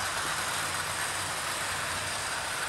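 A Hornby model train, the Sir Nigel Gresley locomotive, runs along a model railway track with a steady, continuous rolling hum and faint rhythmic clatter, fairly close and unbroken throughout.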